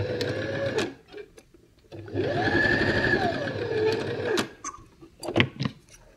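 Domestic sewing machine stitching a seam on a doll's tunic, running in two steady bursts with a short pause between, close and fairly loud with a whirring motor and rapid needle chatter.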